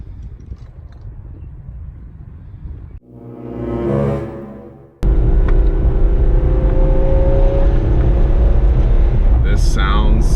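Ferrari F12 V12 engine revving hard, a rising burst of revs followed by a loud, steady high-idle drone under nearby voices.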